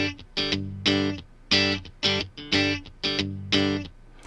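Electric guitar recorded directly with no amplifier, strummed chords in a steady rhythm of about eight sharp attacks, each ringing briefly before the next, dry and close with no room sound.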